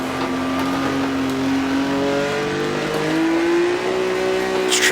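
A 1958 Formula One car in Automobilista, its engine droning and climbing in pitch as it accelerates, loud and close, with a brief shift dip midway before rising again.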